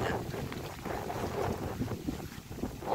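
Strong outdoor wind roars and buffets the microphone in a continuous, fairly loud rush with slight gusting swells.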